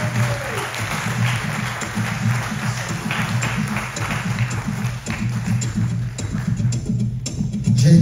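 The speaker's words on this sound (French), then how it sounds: "On peut applaudir encore le son et la lumière." An audience at a blues concert applauds the sound and lighting crew, a continuous dense patter of clapping over a low steady hum, holding even throughout.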